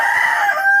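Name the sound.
desi hens clucking and rooster crowing on a poultry farm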